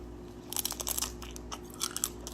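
Crisp crunching and biting into a blue raspberry fruit roll-up filled with strawberry ice cream, several close, sharp crunches in quick bursts over a low steady hum.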